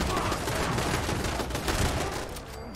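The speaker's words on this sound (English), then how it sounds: "I'm being attacked by super mutants, man. What the fuck? He's got an automatic rifle." A super mutant in the video game Fallout 76 fires a short automatic pipe rifle. The bursts of rapid gunfire are dense and sustained, and game noise runs underneath.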